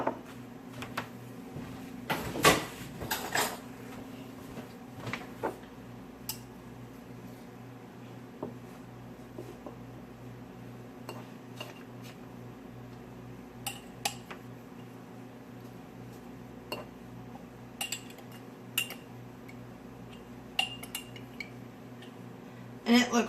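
Metal spoon clinking against a container while stirring plantain salve ingredients, with scattered light chinks and scrapes over a steady low hum, one denser clatter early on and another at the end.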